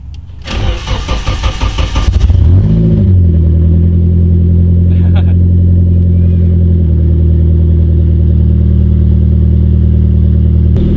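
A Nissan KA24DET engine, freshly fitted with an oil pressure gauge, cranks for about two seconds, catches, and settles into a steady, close-up idle that runs evenly to the end.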